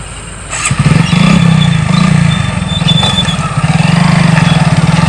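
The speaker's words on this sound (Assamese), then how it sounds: "বাইকখন আহিছে বাৰু ৰ'বা" A motorcycle engine rumbles loud and close, starting up and then holding a steady, chugging idle with slight rises in revs.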